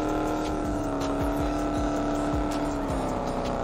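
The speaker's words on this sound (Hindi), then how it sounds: "बाकी डॉज की साउंड बहुत क्लासिक है" A Dodge car engine in the BGMI battle-royale game, droning steadily with a loud, constant motor tone and repeated sweeping rev-like pulses, close up, heard alone without talk.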